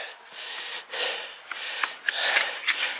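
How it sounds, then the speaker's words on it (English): Barnacles are scraped off a boat propeller in rough, rasping strokes with a few sharp scratchy clicks, heard fairly close and faint with no talking. "We are scraping a whole bunch of barnacles off that were on it"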